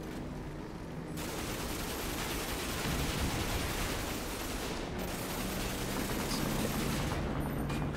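Dense, continuous gunfire aimed at airplanes in the Assassin's Creed Unity video game, a rough steady barrage at low volume with no pauses or talk.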